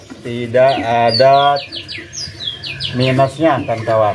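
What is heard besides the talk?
oriental magpie-robin (kacer) calling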